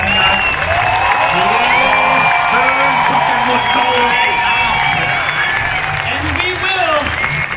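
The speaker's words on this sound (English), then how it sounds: "let's give a huge, huge round of applause" A crowd at an Autodrome memorial ride event for Paul Walker claps loudly and cheers with whoops and shouts. The noise is continuous and close, with amplified voices speaking over it.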